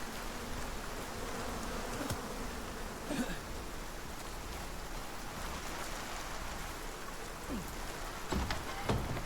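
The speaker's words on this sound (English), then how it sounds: "Bees! Bees! Oh, they're everywhere." A swarm of bees buzzes in the video game Icarus, a dense, unbroken droning hum heard at moderate level throughout, with a few faint clicks and taps scattered near the end.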